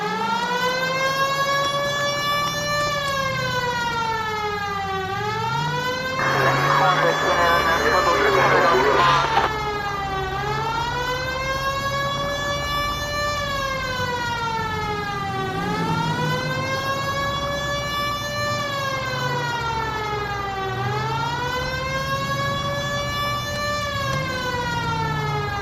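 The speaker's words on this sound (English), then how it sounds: "Hit the siren." A 1940s-style Los Angeles police car siren in the video game L.A. Noire wails up and down in long repeating sweeps, loud and continuous, with a brief burst of noisy engine or radio static partway through.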